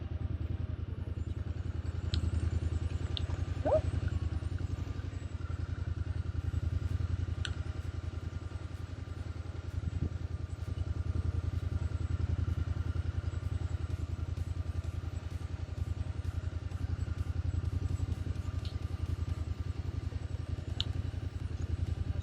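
Motorbike ridden at low speed during licence training, a steady, rumbling engine drone at moderate distance with faint clatter and occasional small ticks, and no voices.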